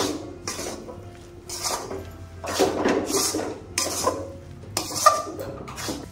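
A spoon scrapes and stirs a sticky banana flower mixture with chickpea flour in a pan, making loud, close bursts of scraping and clatter at uneven intervals, separated by short, quieter gaps.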